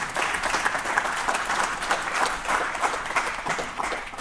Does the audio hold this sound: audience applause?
yes